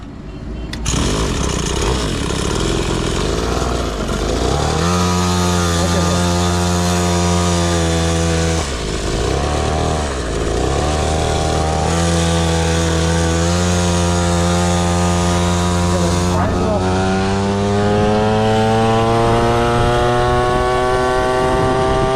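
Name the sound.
mini superbike engine during ride, Ninja ZX6R style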